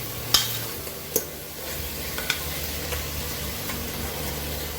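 Jamaican stewed beef browning in a covered pot, a steady low sizzle and hiss throughout with a few faint clinks of the utensil or lid, close and even, with no talk.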